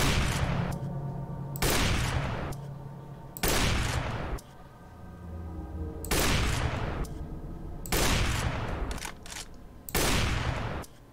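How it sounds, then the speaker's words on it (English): Sniper rifle fire in Garry's Mod: six loud, separate shots spaced roughly two seconds apart, each a sharp blast with a ringing tail, and no talking. "Now we can start sniping."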